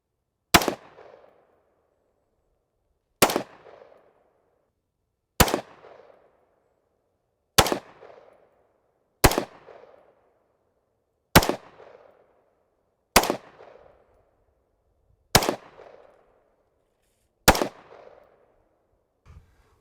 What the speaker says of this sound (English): Dan's gonna try a 30-meter accuracy test with this 20-inch AR